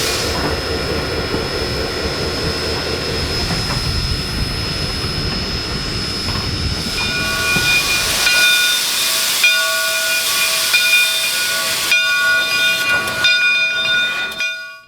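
Southern 401 steam locomotive hisses loudly and steadily at Monticello Railway Museum, then a shrill whistle joins in, sounding in bursts and sustained tones over the continuing hiss.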